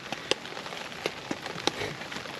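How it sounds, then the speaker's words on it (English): Rain patters in the woods on the Isle of Wight during a wet hammock camp, with steady soft hiss and a few sharper drops striking a nearby surface. "It's raining"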